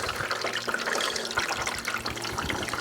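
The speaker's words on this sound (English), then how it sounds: "I'm just going to top that up with water." Water poured into the cooling system of a crash-damaged Fiat 500 during a garage repair, a continuous close splashing and trickling stream with no talking.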